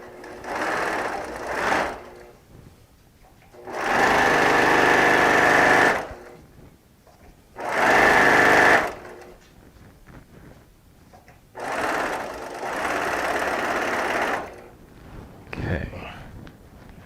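A sewing machine joins quilt blocks with a quarter-inch seam in several loud, close bursts of steady whirring, each lasting a couple of seconds and separated by quieter pauses, with a voice talking between runs.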